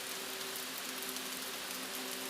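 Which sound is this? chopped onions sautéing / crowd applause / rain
rain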